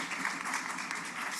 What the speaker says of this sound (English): An applause to our audience,